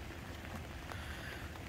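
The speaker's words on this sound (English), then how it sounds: "I got my big jacket on because it's raining real hard." Steady rain patters on a hard surface in a continuous hiss, with scattered droplet hits close by and no voices.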